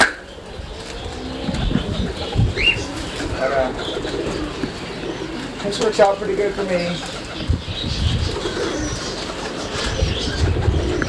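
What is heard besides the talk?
doves cooing among cockatiels in breeder's aviary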